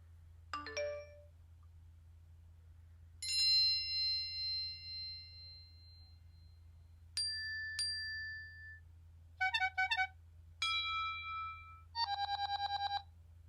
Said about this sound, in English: Some of them you may recognize as tritone, chime, glass, horn, bell, and electric.